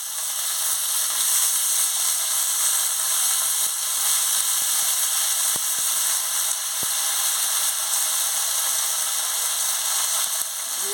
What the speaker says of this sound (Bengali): পেঁয়াজটা দিয়ে ভালো করে ভেজে নিচ্ছি আলু টমাটো কাঁচা লঙ্কা কিছু দিয়ে দিচ্ছি পেঁয়াজের সঙ্গে